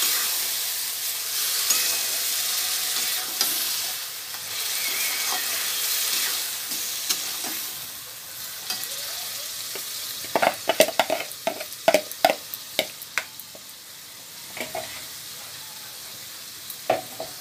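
Marinated food sautéing in a kadai (wok), a steady hiss and sizzle of frying with bursts of stirring and scraping clatter in the second half, close and fairly quiet.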